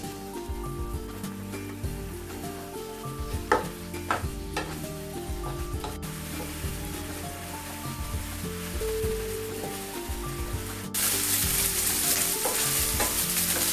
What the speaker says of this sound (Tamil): சிக்கனை நல்லா வதக்கிக்கலாம்